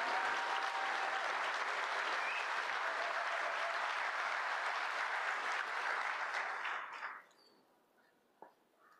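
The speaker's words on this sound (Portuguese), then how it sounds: "Uma salva de palmas à segurança pública brasileira" Sustained applause from an audience at a Brazilian public-security event fills the room loudly and evenly for about seven seconds, then drops abruptly to near quiet with one small bump near the end.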